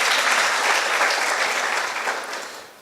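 Audience at a school debate competition breaking into a full round of applause for the team, a loud steady clapping burst that tapers off over a few seconds.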